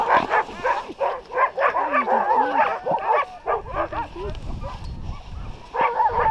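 A pack of sled dogs at a glacier camp near Skagway, Alaska, yips, barks and whimpers excitedly in rapid overlapping bursts, close and loud. The chorus thins briefly, then rises again.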